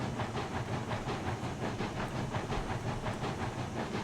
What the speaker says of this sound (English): One Buffalo to move 110 cars. That thing is pounding.